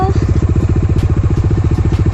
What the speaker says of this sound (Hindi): यहाँ से एक ट्रैक्टर मुड़ा